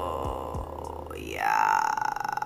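A voice imitates the croaking rattle of the ghost from The Grudge, a drawn-out guttural croak that rises into a strained, buzzing tone for over a second, heard close and alone after a couple of soft taps.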